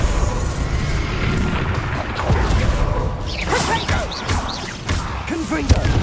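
Confringo fire spell in the wizarding game Hogwarts Legacy, a dense blast of booms and whooshes with thuds and crackling over a loud rumbling bed, with scattered voices among the effects.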